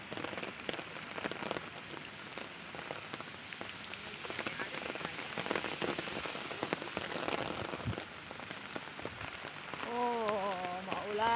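Rain falls steadily in Hong Kong, a dense close patter on surfaces lasting throughout, with a brief voice near the end.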